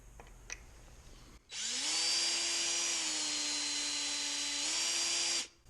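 Power drill bores into a Corona 3354 weeder under repair, a loud, steady high whine that spins up sharply, holds for about four seconds with a slight pitch dip, then cuts off, after a few faint taps.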